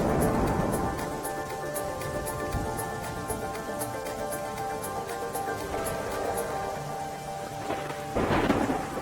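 Heavy, continuous rain pours down during a Gujarat monsoon storm, with rolling thunder rumbling beneath the steady downpour and a louder thunderclap swelling near the end.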